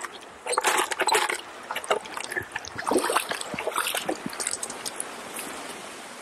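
Water from a small waterfall runs and splashes close by in uneven gushes and spatters, with a steady wash underneath that softens toward the end.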